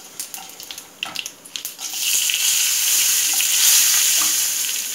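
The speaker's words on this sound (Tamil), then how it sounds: "போட்டு நல்லா கடுகு உளுந்துலாம் நல்லா பொரியட்டும்." Mustard seeds and urad dal splutter in hot oil with a few sharp pops, then a dense, loud sizzle that holds steady to the end.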